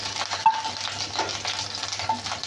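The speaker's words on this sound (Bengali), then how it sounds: "তেল গরম হওয়ার পরে ডিমগুলো দিয়ে আমি এপিট ওপিট করে ভেজে নেব" Turmeric and salt coated eggs fry in hot oil and are turned over, giving a dense, constant nearby sizzle with a couple of small clicks.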